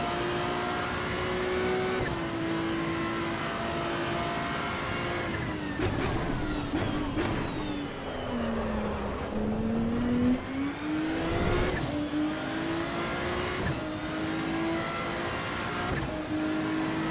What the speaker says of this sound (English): He is short shifting the Ferrari.